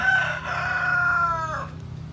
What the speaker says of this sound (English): the roosters are letting you know they're here, as always